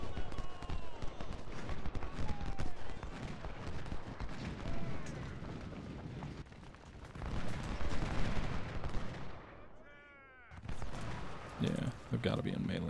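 Napoleon and 20-pounder cannons fire artillery volleys in the Ultimate General: Civil War video game, with repeated booms and battle rumble of varying loudness, while someone talks over it.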